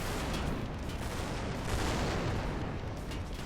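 Massed tank cannon and artillery fire in Total Tank Simulator, a dense, continuous barrage of overlapping booms and blasts, loud and relentless with no voices.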